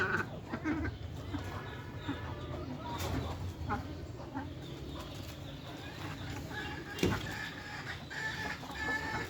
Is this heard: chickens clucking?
yes